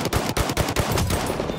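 Rapid automatic gunfire in the video game Battlefield 1 rattles continuously in a loud burst, dense and harsh, with no talking.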